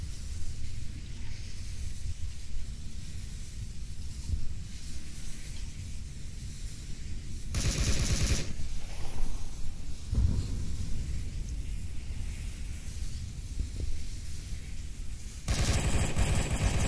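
Rifle fire in the VR shooter Onward arrives in two loud bursts of rapid shots over a steady, hissing ambient background.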